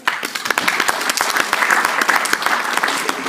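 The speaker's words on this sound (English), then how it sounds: "Give me a round of applause." A room of people at an entrepreneurs' event gives a round of applause, with loud, close, dense clapping and sharp individual claps standing out as it continues steadily.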